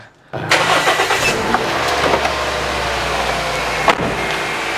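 A 2007 Toyota Vios 1.5 with an older engine cranks briefly and catches, then settles into a steady, fairly loud idle close by, with a couple of faint clicks over the running engine.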